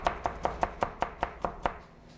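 Rapid, even knife strokes pull-cutting food on a cutting board during a cooking class, nine crisp chops about a fifth of a second apart, close and clear, with no talking.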